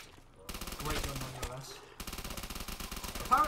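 An M1927 Tommy gun fires in Call of Duty Zombies in rapid automatic bursts, a dense rattling stream of shots with a short pause between two strings, loud and close, with a voice talking over part of it.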